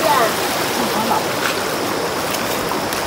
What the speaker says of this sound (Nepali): खोला हेर्नु होला खोला त्यति ठुलो त छैन